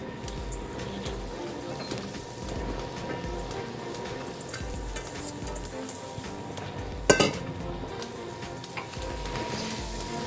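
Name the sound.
eggplant being added and sauteed in a pan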